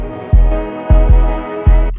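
Heavy bass hits in an FL Studio underground beat, three deep booming thuds at an uneven pace, each swelling loud then decaying under a sustained low drone.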